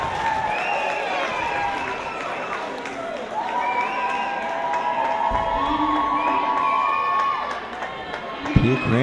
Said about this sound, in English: Pia Kramer gets the crowd going